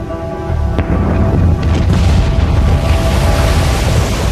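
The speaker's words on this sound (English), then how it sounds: "A series of booms could be heard hundreds of miles away." Krakatoa's volcanic explosions rumble as a loud, deep sustained boom, a dense low roar swelling and holding without pause.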